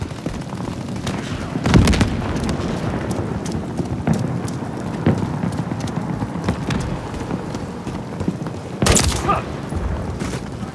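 Enemy gunfire in the Modern Warfare III campaign, a steady crackle of scattered shots and bursts under continuous battle noise, with a couple of louder cracks standing out.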